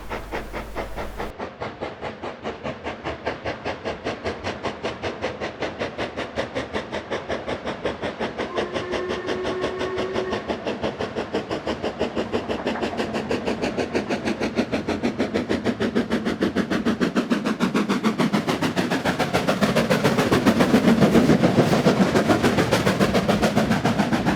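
Steam locomotive 45212 runs through Somerset Station without stopping, its rapid, steady exhaust beats and hissing steam carrying for the whole stretch and building louder as the engine draws near.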